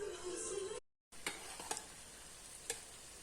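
Umac halvasi mixture frying in melted butter while being stirred nonstop, a quiet steady sizzle with a brief dropout and a few light scraping clicks from the spoon.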